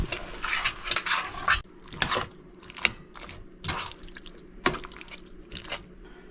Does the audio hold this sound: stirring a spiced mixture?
yes